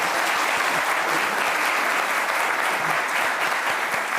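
Steady, loud applause from an audience at a presidential discussion forum for candidate Evelyn Matthei, dense clapping sustained evenly throughout with no break.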